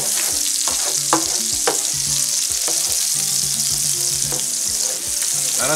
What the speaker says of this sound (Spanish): Echamos el pimiento verde, vaya friendo también.